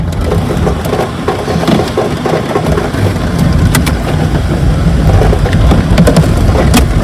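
Heavy rain pours down steadily in a loud, continuous wash with scattered sharper hits, close by and with no talking.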